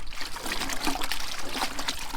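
Laundry is hand-washed in soapy suds in a 7-gallon bucket, the water sloshing and trickling in quick, continuous agitation close by.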